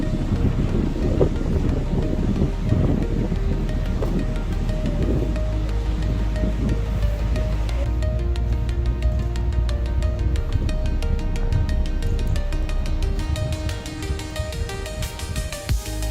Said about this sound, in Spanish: escuchar el suave vaivén de las olas